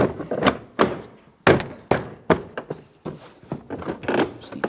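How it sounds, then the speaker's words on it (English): A Ford Transit 250 interior door panel is pressed back onto the door, producing a series of repeated dull thunks and clicks as the locking tabs seat, spaced roughly every half second. "press the panel towards the door itself"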